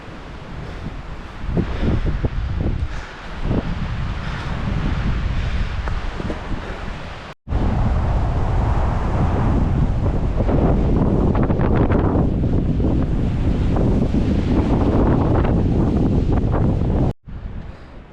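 Strong wind buffets the microphone on a beginner 10 km mountain hike in the Tatras, the Nosal and Wielki Kopieniec loop. Loud, continuous gusting roar with two brief dropouts, no talking.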